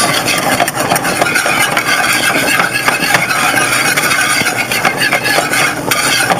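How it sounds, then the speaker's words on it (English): Roast pork pan drippings stirred and scraped in a hot pan, a steady close scratching and sizzling texture running continuously with low kitchen hum beneath, no voices. "every time you're spinning it like this, stirring it, you're scraping up some of these little delicious brown bits"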